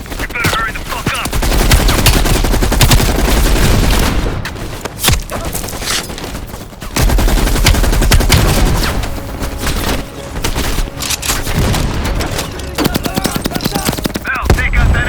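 Sustained machine gun fire in the Call of Duty: Black Ops Cold War campaign: loud, dense rattling bursts that fill most of the clip, broken by brief pauses, with heavy battlefield booms mixed in.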